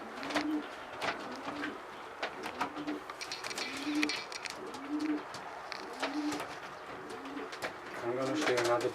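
Racing pigeons of the Jan Aarden line coo in a quiet loft, a soft repeating rhythm of low calls about every half second, with faint rustling and clicks around them.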